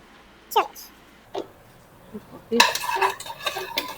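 Potatoes and capsicum sauté in a pan for a restaurant-style aloo capsicum sabzi, heard as a few scattered spatula scrapes and then a dense burst of stirring and clinking against the pan, close and fairly loud.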